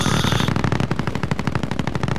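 Light machine guns fire in a zombie royale video game, with rapid, loud, evenly spaced shots rattling in a continuous burst for the whole stretch. No voices are heard.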